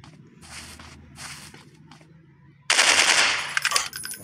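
Gunfire in the Dino Hunting Android game: short scattered bursts at first, then a loud, sustained rapid-fire volley of close shots that runs to the end.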